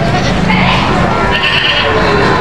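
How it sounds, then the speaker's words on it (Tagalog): A large goat bleats amid a busy, noisy outdoor scene, with a steady din of background chatter and farmyard sounds around it. "Ang laki ng kambing, oh."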